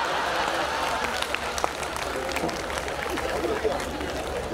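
Applause and crowd noise at a Hindi kavi sammelan poetry gathering, with the mayor among the audience clapping; a steady wash of clapping and hubbub runs throughout, with voices mixed in.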